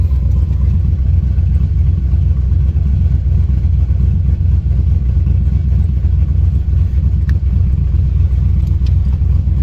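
A car engine from an LS-swapped Chevrolet Caprice with a five-speed manual runs steadily at a low idle-to-light rumble, loud and continuous throughout as a test drive gets under way, with no talk.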